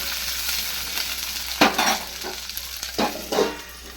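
Green chilies, tomato, tamarind and onion fry in hot oil in a pan, giving a steady close sizzle broken by a few sharp bursts as the pieces are stirred, with no talking.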